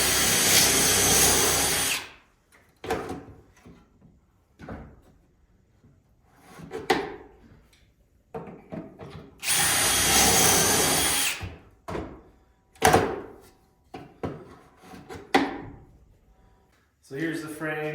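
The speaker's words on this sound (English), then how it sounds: "we're just gonna do 2 holes on the bottom, 2 holes on the top, repeat for the other side" A power drill bores holes in a plywood acoustic-panel frame in several short bursts of close, loud whine, separated by quiet gaps with handling clatter and bits of talk.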